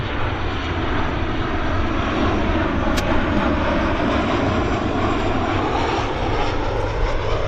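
A WestJet airliner's engines roar continuously at Vancouver Airport, a loud, steady broadband rumble with a faint higher whine, heard without any talking.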